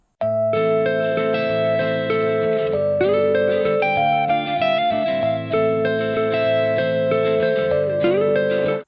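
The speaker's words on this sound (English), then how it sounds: "Let's listen again to the unmodified music sample." A dry music sample with no effects applied, a steady, full sustained chord with a bass line and tones that shift in pitch, loud and continuous throughout.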